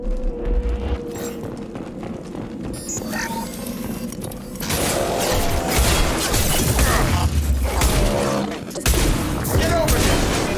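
Pistol and shotgun gunfire in the sci-fi shooter Mass Effect 2, a dense, loud stretch of repeated shots and booming impacts amid mechanical combat noise, with speech mixed in throughout.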